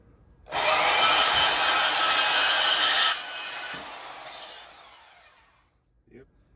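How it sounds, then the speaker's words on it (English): A bandsaw cuts a metal pipe in half with a loud, harsh whine for about two and a half seconds. It then eases off and fades away, followed by a faint knock near the end. "So I'm just gonna grab the bandsaw and we'll shoot that in half"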